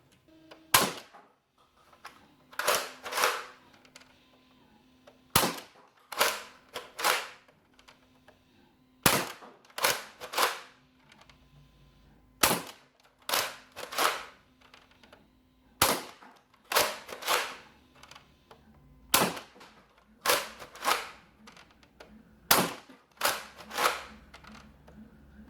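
A modified Nerf Crossbolt with tightened strings fires foam darts through a chronograph, giving sharp, loud snapping shots at irregular intervals, often in quick pairs, with a faint steady hum in between and no voices.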